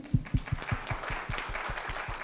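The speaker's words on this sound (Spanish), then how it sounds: "Un aplauso" Applause from an audience closing a panel discussion at an academic event on development-oriented research evaluation, a dense steady patter of clapping hands with a few sharper claps at the start, sustained and moderately loud throughout.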